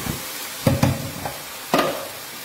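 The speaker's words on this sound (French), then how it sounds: "Je vais bien mélanger." Vegetables and canned tomatoes being stirred in a pan with a spoon, a few distinct scraping clacks over a soft sizzle, close and clear with no talking.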